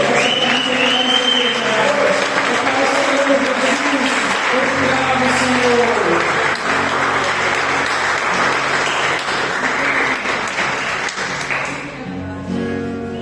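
Sustained church congregation applause with a tonal, sung or spoken layer running beneath it, gradually fading toward the end.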